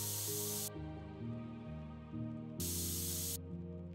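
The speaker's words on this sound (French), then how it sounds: "On va passer à l'activation du spray." A spray bottle fires two close, loud hissing bursts beside a horse during spray desensitisation work, one lasting under a second and a second about a second long, over steady low background hum.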